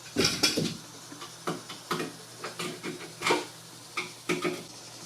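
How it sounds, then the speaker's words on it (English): Paint and primer stirred in a can, repeated scraping knocks at an uneven rhythm with short pauses between strokes, close and moderately quiet over a faint background hum. "So I've shook up the can a little bit, but want to stir it up too."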